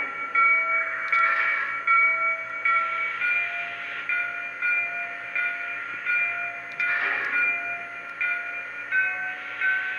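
Alternate bell on a Lionel Great Northern Pacific USRA model steam locomotive, cab 1385, a higher-pitched metallic ringing repeating in steady, evenly spaced pulses, close and unaccompanied, with a couple of brief soft hissy bursts.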